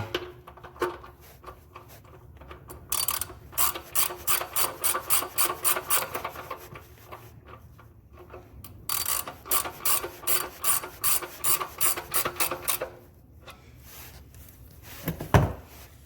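A ratchet snugs a 16 mm oil drain plug on a 2005-2009 Ford Mustang GT, with two close runs of rapid metallic clicking separated by a short pause and a faint thud near the end.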